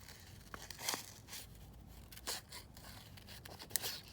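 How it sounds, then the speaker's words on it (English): Scissors snipping out small, fiddly shapes from hand-printed gelli plate papers, a few soft crisp cuts and paper rustles spaced unevenly, close and quiet with no talking. "So I'm going to have to cut out a couple more bits here"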